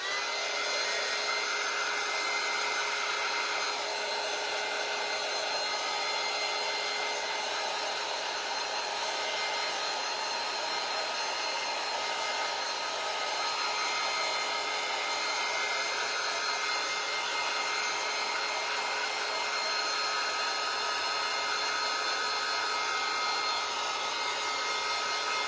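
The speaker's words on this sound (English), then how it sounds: "I'm gonna blow it dry real quick so we can move on." A hair dryer blows steadily on painted sign post pieces, giving a continuous, even whoosh with a high motor whine that runs for about twenty-five seconds, close by and uninterrupted by talk.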